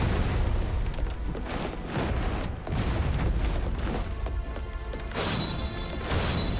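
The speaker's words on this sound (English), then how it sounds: "We dodged the cannon for the final charge." Cannon fire during a boss fight in the video game Wuchang: Fallen Feathers, a series of loud booming blasts and crashes repeating every second or so amid a dense, noisy game soundtrack.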